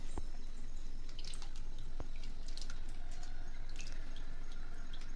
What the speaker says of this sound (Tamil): இந்த சின்ன இதில் நாங்கள் டைரெக்டாகவே கம்ஃபர்ட் உள்ளேயே ஊற்றிடுவோம்